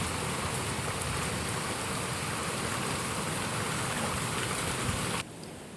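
Steady rain from a thunderstorm hissing and pattering on surfaces, even and continuous, then cutting off suddenly near the end.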